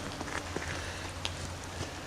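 Steady light rain falls at the east portal of the original Cascade Tunnel, heard from just inside the arch: a soft continuous patter with a low rumble underneath and a few faint isolated drips or steps.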